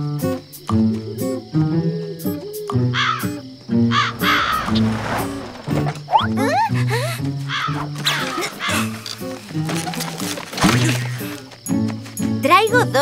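Cartoon crows caw in a rapid series of loud, harsh calls, close and repeated throughout, mixed with animated character voices talking over them.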